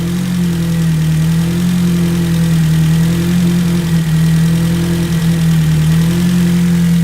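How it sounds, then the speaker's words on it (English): A Ford Focus RS engine idles steadily just after a cold start, a loud, close, even drone with a faint lumpy pulse and no voices over it. "I'll let it warm up a little bit, let it get down to its general tick over"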